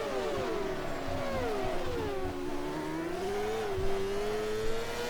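A CART race car engine in Automobilista screams at high revs around the Salvador street circuit, its pitch sweeping up and down through gear changes, loud and continuous with no voices.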